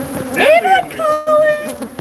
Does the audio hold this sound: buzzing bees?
yes